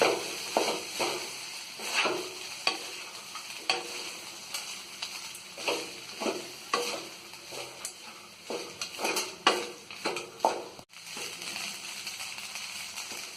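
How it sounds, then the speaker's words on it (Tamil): Cooked rice is stirred with coconut in a hot pan, a repeated rhythm of scraping spoon strokes over a low sizzle, close and steady with no talking. "இனி நம்ம எடுத்து வச்சிருக்கிற சாதத்தை இதுல சேர்த்துக்கலாம். நல்லா மிக்ஸ் பண்ணி விட்டுடலாம்."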